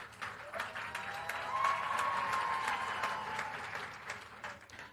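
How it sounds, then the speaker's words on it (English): Moderately faint applause from an audience at a national science and technology exhibition event, a steady spread of clapping heard from some distance in a large room. "Another round of applause for Dr. Engineer."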